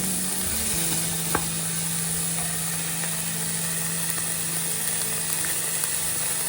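Food seasoned with garlic powder fries in a pan, giving a steady, close hiss of sizzling with a low hum underneath and a few faint clicks.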